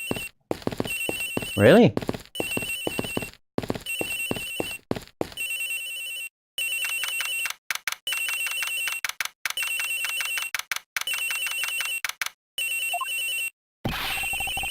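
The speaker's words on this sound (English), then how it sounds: "The ringing is coming from somewhere in here" A telephone rings aboard an airplane in the game Ace Attorney Investigations, repeated bright electronic trills in regular bursts separated by short gaps, with a voice briefly speaking near the start.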